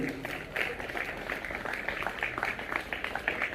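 A crowd at a Republic Day event at a senior secondary school applauds continuously, with dense, fairly distant clapping and occasional sharper claps standing out.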